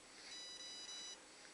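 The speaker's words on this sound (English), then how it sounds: "Now it beeped again." Electronics on an HK 250 RC helicopter with a 2-cell battery give a short, faint high-pitched beep tone, steady and alone against a quiet hiss.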